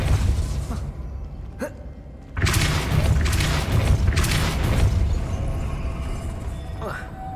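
A Depulso spell is cast in the video game Hogwarts Legacy: a sudden loud, broad whooshing burst that swells into a sustained rushing blast lasting several seconds before easing off.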